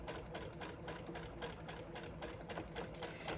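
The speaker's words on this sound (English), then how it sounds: "And I will be sewing up both sides with the wrong sides together or pretty sides of fabric out." A JUKI sewing machine stitches a seam along the side of a zipper bag, a steady, quiet, rapid mechanical whir and needle patter running continuously without pause.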